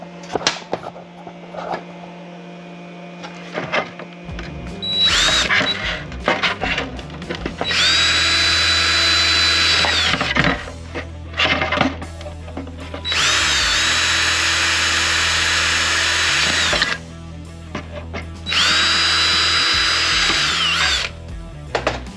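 A power drill punches holes through the body of a 2021 Ford F-350 dually to fit a phone mount, running in loud sustained bursts of whining drive with pauses and clicks between them.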